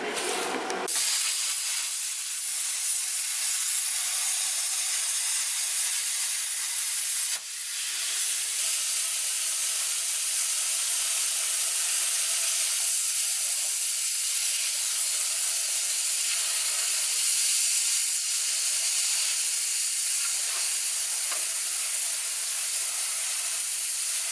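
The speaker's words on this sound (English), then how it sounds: "Good, I'm using the plasma cutter." Plasma cutter slicing through rusty steel on an FJ40 Land Cruiser body, a steady loud hissing roar that runs nearly continuously with one brief dip, close and alone without talk.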